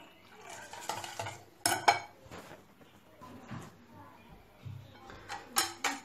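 Batter for Moroccan pastilla sheets, made with water, being beaten in a bowl with a utensil, giving intermittent clinks and scraping strokes, loudest in short bursts, with faint kitchen background noise.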